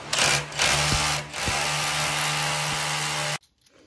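A power drill bores a 12 mm hole into a brick wall with hollow aerated block inside, whining loudly and steadily for over three seconds, with a couple of brief dips, before cutting off sharply.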